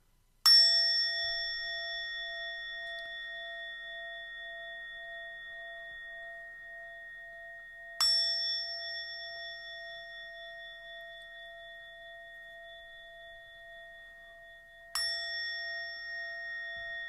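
Three strikes of a meditation bell ring out clearly in near silence, each a bright metallic tone that sustains and fades slowly before the next, spaced about seven to eight seconds apart.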